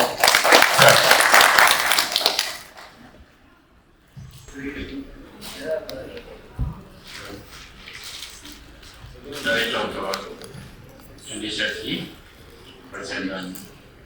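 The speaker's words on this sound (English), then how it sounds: "Please welcome him with a round of applause." A short burst of audience applause at an African Union staff gathering, loud for about two seconds and then fading out, followed by someone speaking into a microphone.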